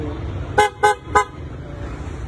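Three short car horn honks in quick succession, loud and close, over a steady low background rumble.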